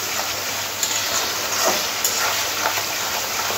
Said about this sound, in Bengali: সমস্ত কিছু খুব ভালো করে মিশিয়ে নেব।